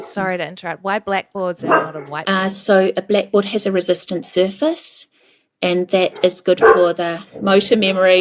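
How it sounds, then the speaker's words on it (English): Dogs bark in the background in short yapping bursts, mixed under steady close speech from someone talking about handwriting practice on blackboards. "Sorry about the dogs."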